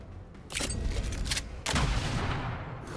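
Sniper shot in the fantasy strategy game Age of Wonders 4, two loud sharp cracking bursts each followed by a noisy crackling wash, close and alone without talk.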